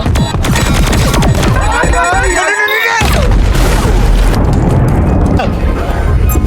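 A robot bomb detonates in a film scene, a huge, sustained roaring blast with crashing debris that fills the whole clip loudly and up close.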